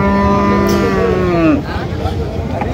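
At the Raniganj cattle market in Dinajpur, where Sahiwal bulls are traded, a cow gives one loud, close moo lasting over a second, set against busy market murmur and distant chatter.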